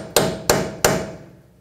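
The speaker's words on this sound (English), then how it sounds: "just take a punch and a hammer, and it doesn't take much. Just give it a couple taps." Three sharp metallic hammer taps on a punch, bending tie rod lock tabs during inner tie rod replacement on a 2004-10 Toyota Sienna, evenly spaced, close and ringing briefly after each strike.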